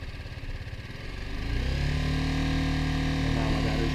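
A motorcycle engine turns over, catches and settles into a steady, close idle with a low rumbling throb that continues to the end.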